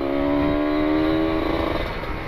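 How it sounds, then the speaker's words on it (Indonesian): A Kawasaki Ninja RR sport motorcycle with a carbon aftermarket exhaust burbles steadily at low revs, a deep, even idle with a slight change in tone partway through, close and fairly loud. "suara si knalpot ini, si Neo Mugello Carbon R9 ini"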